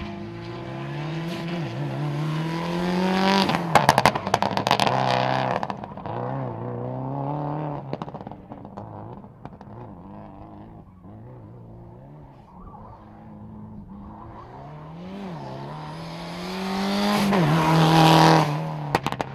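A rally car set up for dirt revs and roars through gear changes, rising to loud bursts with loose gravel spray, fading in the middle before surging close again.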